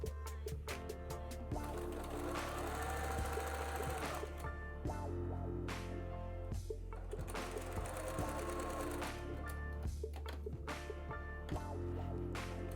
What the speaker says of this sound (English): I sew off the edge.